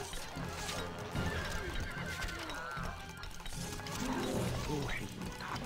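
Horse whinnies ring out in the medieval strategy game Stronghold: Crusader, mixed with ratcheting mechanical clicks and hoof clip-clops, several neighs rising over a busy, moderately loud battlefield soundscape.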